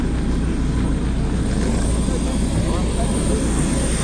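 Steady loud roar of an airplane engine at an airport fills the whole stretch, a dense continuous rumble with a high whine on top, close and unbroken.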